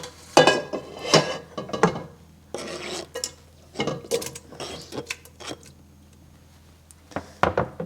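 Tomatoes for stewing are dropped and scraped into a cooking pot, producing scattered knocks, clinks and spoon-against-pot clatter in short bursts with quiet gaps, close up and with no talking.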